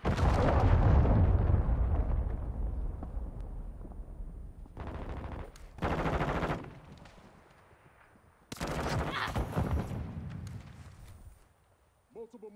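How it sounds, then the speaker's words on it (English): A cruise missile strike in Call of Duty: Modern Warfare 2 lands with a big explosive blast that decays slowly, followed by bursts of heavy gunfire and further loud impacts, with voices talking. "Hostile cruise missile launched."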